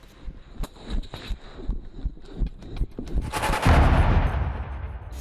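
Gunfire from Houthi fighters, barefoot and out of uniform, firing indiscriminately as they advance: a run of sharp, separate shots, then a louder, denser burst of sustained rapid fire that trails off.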